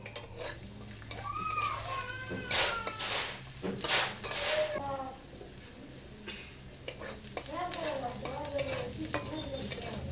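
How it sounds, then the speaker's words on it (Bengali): Chopped onion sizzles steadily in hot oil with black cumin, stirred with a utensil that scrapes and clinks against the pan, while a cat meows nearby and a voice murmurs faintly. "পেঁয়াজ কুচি দিয়ে ভালো করে ভাজা ভাজা করে"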